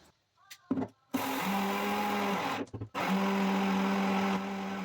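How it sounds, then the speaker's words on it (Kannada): A mixer grinder whirring as it grinds rice added a little at a time, with loud sustained motor whine in bursts separated by brief stops and jar rattles, close and without talk. "ಈಗ ಸ್ವಲ್ಪ ಸ್ವಲ್ಪನೇ ಅಕ್ಕಿನ ಹಾಕ್ಕೊಂಡು ನಾನಿಲ್ಲಿ ಮಿಕ್ಸಿ ಮಾಡ್ಕೋತಾ ಇದ್ದೀನಿ"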